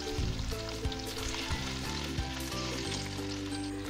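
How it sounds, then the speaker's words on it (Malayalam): Marinated chicken goes into hot oil already used for French fries over a high flame, setting off a loud, continuous sizzle and bubbling with a few soft clicks and knocks, no voices. "ഫ്രഞ്ച് ഫ്രൈസ് ചെയ്ത എണ്ണയിൽ തന്നെ നമ്മൾ ഈ 30 മിനിറ്റ് മാരിനേറ്റ് ചെയ്യാൻ വെച്ച ചിക്കൻ നമ്മൾ ഈ എണ്ണയിലേക്ക് ഇട്ട് കൊടുക്കുകയാണ്"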